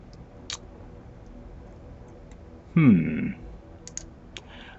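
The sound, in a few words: mouse clicking in Eve Online game menu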